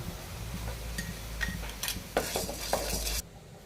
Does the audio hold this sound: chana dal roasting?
yes